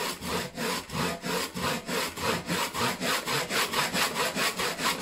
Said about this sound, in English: Now when you're sawing as well, it is good, now you've got your initial line through, it's better to go down at an angle.